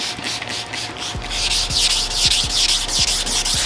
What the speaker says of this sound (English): So I'm going to sand this entire damn truck